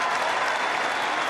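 A friendly crowd at an NRA convention applauding and cheering, dense continuous clapping filling the whole moment at steady loudness.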